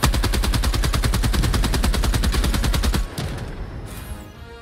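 An autocannon turret in Helldivers 2 fires a long, loud, rapid string of heavy shots that then stops abruptly, leaving a fading echo and distant rumble.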